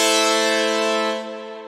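A sustained synthesizer pad holds a bright, harmonically rich chord that slowly fades in volume, with no other sounds.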